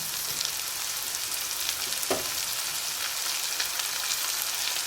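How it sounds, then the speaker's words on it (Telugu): Beans frying in oil in a pan, a continuous close crackling sizzle with a faint scrape of stirring partway through, no voices. "ఆయిల్లోనైతే ఇలా వేగిపోయింది"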